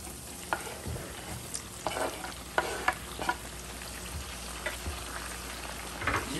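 Green, orange and yellow bell peppers with onion frying alongside tripe in a pan, a steady close sizzle broken by scraping stirs.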